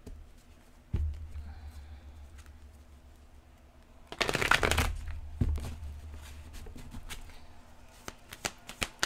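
A deck of tarot cards gets a brisk riffle-shuffle midway through, a dense burst of papery flutter after quiet handling and taps, followed by scattered soft card clicks.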